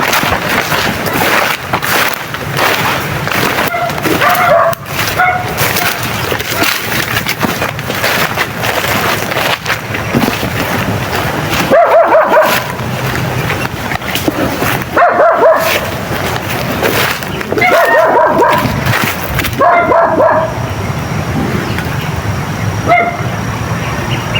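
A dog barks in repeated bursts, some single and some in quick clusters, loud and fairly close over a steady rumbling engine-like background.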